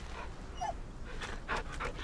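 A dog in the video game The Medium pants softly in a few quick breathy puffs, faint and close under a low steady background hum, with no one talking.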